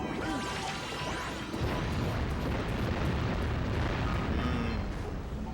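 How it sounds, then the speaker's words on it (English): Explosions in the Jak and Daxter video game, a dense, loud, continuous roar of crashing blasts and rumbling booms layered with game effects, sustained over several seconds without speech. "Explosion noises."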